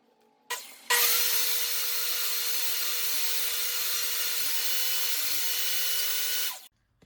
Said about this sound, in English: take one of these 20-inch boards and rip it down by 1 inch